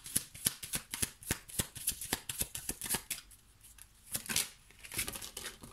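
Tarot cards are shuffled close up in quick, rhythmic riffles and slaps, a rapid run of crisp papery bursts with a short pause near the end.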